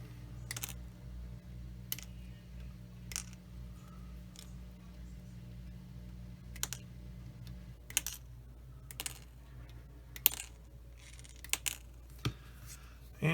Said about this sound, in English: I'm just going to cut them all off right now.